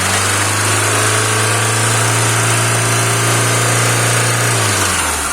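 A VAZ 21051 engine fitted with a rebuilt Solex carburetor runs close by, a loud steady idle with strong low harmonic hum that drops in pitch as the revs fall away at the end.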